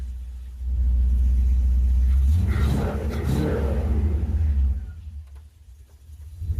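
A Range Rover Classic with a tuned Performance 4.6 V8 revs up from idle into a deep, loud rumble, holds for a few seconds, then drops back toward idle and starts climbing again.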